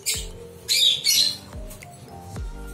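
Close by, a hen near an outdoor nest box gives a short run of harsh, squawking cackles, several separate bursts in quick succession with nobody speaking.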